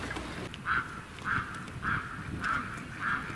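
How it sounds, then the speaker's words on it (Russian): Geese swimming on a river give a series of regularly spaced honking calls, about five in all, faint and at a distance over soft outdoor background noise. "Гуси плавают по речке."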